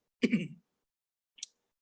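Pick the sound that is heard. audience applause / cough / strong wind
cough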